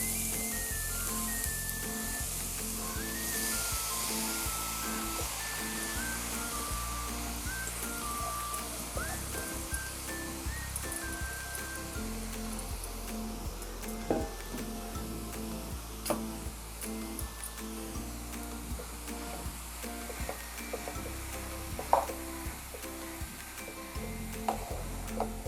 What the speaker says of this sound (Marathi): तूप टाकते 2-3 चमचे. किचलेला गाजर टाकते.